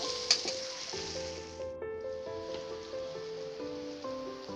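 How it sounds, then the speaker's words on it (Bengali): Onions sizzling and frying in a pan for spiced chicken and khichuri, a soft steady hiss with faint crackles, heard alone and fairly quiet. "পেঁয়াজটাকে লাল করে ভেজে নিব।"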